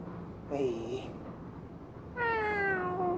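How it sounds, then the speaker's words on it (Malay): A cat meows twice nearby, a short cry followed after a pause by a longer, drawn-out, louder meow, against a steady background hum. "Kucing lagi."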